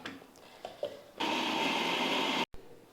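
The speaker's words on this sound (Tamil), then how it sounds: "இப்போ மிக்ஸி வந்து ஓடுது" A mixie grinder starts up grinding batter, a loud steady whir that runs for over a second before cutting off abruptly, preceded by a few faint clicks and knocks.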